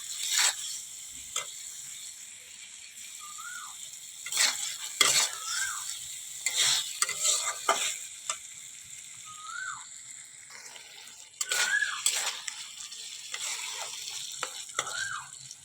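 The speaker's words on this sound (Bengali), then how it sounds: "এবারে পটল আলুগুলো দিয়ে দিলাম এগুলা দিয়ে খানিক্ষণ কষাবো" Pointed gourd and potato pieces stir-fried in a hot pan give a steady sizzle broken by repeated spatula scrapes and stirs, close and fairly loud, with no talking.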